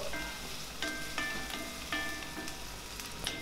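Onions sautéing in a pan for a green chicken curry, a soft steady sizzle with a few light stirring scrapes and clinks of a spoon against the pan, close and fairly quiet, no speech.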